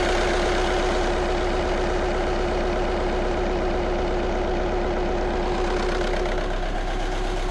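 A diesel Audi A1 engine, running rough with a fault, heard from under the open bonnet: a steady, loud, close mechanical idle with uneven knocking pulses throughout, no voices.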